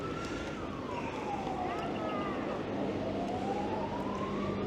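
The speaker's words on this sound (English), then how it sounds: "Whoa, an ambulance." An ambulance siren wails past on a street in Varadero, Cuba, its tone sweeping down and then rising again at moderate distance, over steady traffic and street noise.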